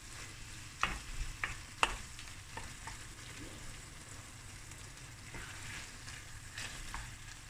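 Onions frying in a little oil in a pan for spaghetti bolognaise, a faint steady sizzle with a few sharp clicks and scrapes of stirring near the start.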